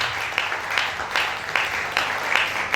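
Audience applause for the technical team behind a gospel album, a steady wash of clapping from a crowd that swells in waves, moderately loud and unbroken, with no talking over it.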